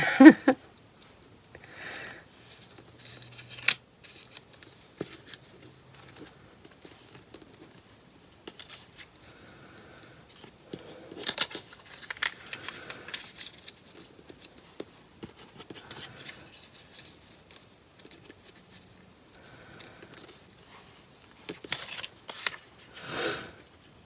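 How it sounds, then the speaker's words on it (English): Scissors snip around a paper ticket to trim it down, with scattered crisp cuts and paper rustling at close range, quiet between bursts, and no one talking. "cut around this one just to take it down to the actual ticket"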